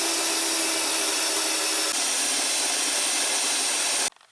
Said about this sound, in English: I'm using my mag drill. My drill press doesn't have enough oomph to do it.